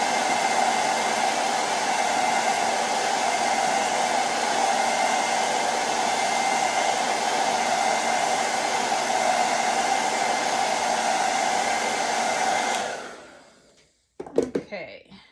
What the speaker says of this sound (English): I might just hit it with the dryer a little bit.